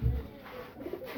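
A domestic pigeon gives a short, soft coo close by, a single low burbling call heard alone in a quiet setting.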